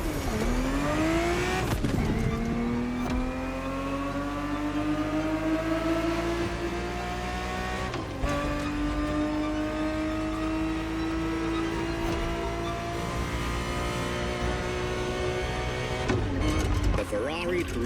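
A Ferrari 365 GTB4 engine in The Crew Motorfest, revving hard and climbing steadily in pitch, with sharp gear shifts dropping the note three times before it rises again; loud and close throughout.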